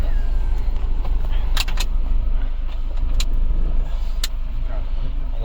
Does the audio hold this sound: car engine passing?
yes